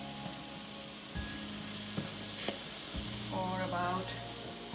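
Quiche filling of spinach and mushroom with a pinch of salt simmering in a pan, a steady soft sizzle with faint clinks, sounding under brief low speech.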